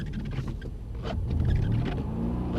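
A Mercedes-AMG car accelerates on a driving-experience track at Mercedes-Benz World Brooklands, its engine rumbling loud and close and swelling as the revs build, with no talk over it.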